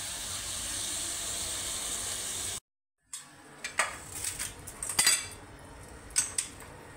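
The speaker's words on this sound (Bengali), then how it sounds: "শুধু চিকেনের পিসগুলো দিলাম তেলের মধ্যে।" Chicken pieces dropped into hot oil in a pan, first a steady loud hiss, then after a brief gap a busier crackle of sizzling with clinks of a utensil against the pan, no talking.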